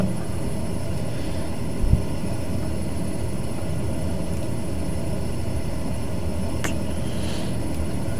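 DHC-6 Twin Otter turboprop engines in a flight simulator, taxiing toward takeoff on a bush strip in Malawi, give a steady, moderately loud drone with a brief thump near the two-second mark.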